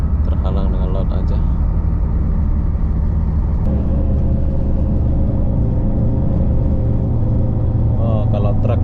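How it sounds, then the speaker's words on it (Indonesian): Large trucks pass on the road below a bus travelling between Singapore and Johor, Malaysia. The heavy, continuous low rumble is loud and close, and faint voices can be heard over it. "Kalau truk-truk besar lewat bawah"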